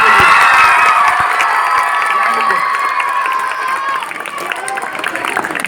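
A school annual-function audience cheers loudly for the children, with a dense wash of crowd noise, excited shouts and some clapping that stays strong throughout and eases slightly toward the end.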